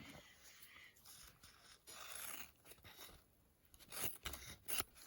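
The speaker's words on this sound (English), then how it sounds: "and then you have to cut this end out" Scissors snip through the end of a bandana, several soft crunchy cuts and fabric scrapes close by, quiet and uneven in rhythm.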